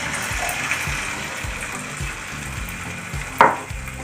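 Neyyappam batter sizzles and bubbles steadily in hot oil in a pan, with a sharper splash of frying near the end.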